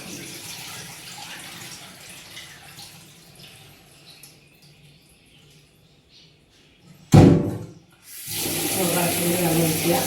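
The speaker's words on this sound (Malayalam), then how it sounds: "ഈ വെള്ളം ഊറ്റിക്കളയുക." Rice-washing water for idli dosa batter is drained off, a quiet running, splashing flow that gives way to a loud gush of water near the end, nearby with no talking.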